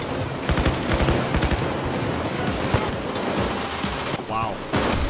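Sniper and automatic gunfire in the heist shooter Payday 2, with rapid bursts of sharp cracks in clusters, close and loud over a constant battle din, plus scattered shots and a voice briefly heard in the mix.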